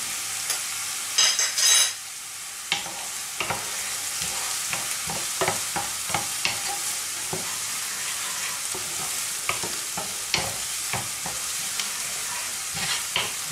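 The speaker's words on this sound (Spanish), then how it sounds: "mientras vamos friendo las patatas a cuadraditos pequeños, las vamos friendo un poquito y reservamos" Small diced potatoes frying in a pan send up a steady hiss of sizzling oil, broken by frequent sharp scrapes and clatters as they are stirred, with a louder burst near the start and no talk.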